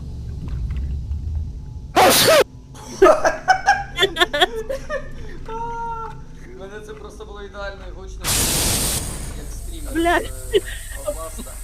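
Someone lets out two sharp, explosive sneezes, one near the start and one later, amid chuckles and laughter during an Outlast gaming session. Casual voices chatter between the bursts.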